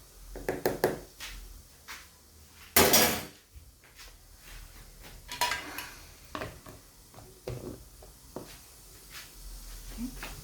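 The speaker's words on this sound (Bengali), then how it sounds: "টমেটোটা সিদ্ধ করে চালটা এখন কাঠি দিয়ে এরকম করে জ্বালাইতেছি" A wooden stick stirs rice and tomato in a pot, making intermittent scrapes and knocks against the metal at an irregular rhythm, with one louder rattling clatter partway through.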